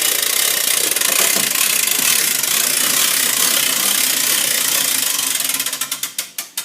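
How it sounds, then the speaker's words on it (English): A two-way winch opens the top of a wet felting machine with a loud, continuous run of ratcheting clicks up close, breaking into a few separate clicks at the end. "this is a 2-way winch, so we can open it"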